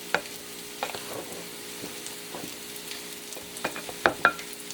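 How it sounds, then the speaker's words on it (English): A knife stirring potato stuffing bound with egg, making soft, scattered scrapes and light clicks against the dish, fairly faint and irregular, with no talking. "Stirring with a knife."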